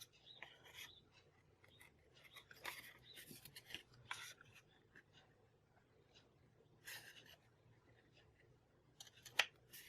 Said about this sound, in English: And then I'm just going to use my scissors and trim that.